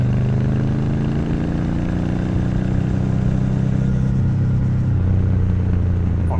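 Triumph Bonneville T120 motorcycle in third gear after a downshift, its exhaust giving a loud, steady low rumble that holds even throughout, close and without speech.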